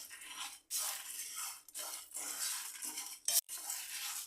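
Whole spices for chicken masala powder being stirred as they dry-fry in a pan, with repeated scraping strokes in an irregular rhythm, close and fairly loud, separated by short gaps.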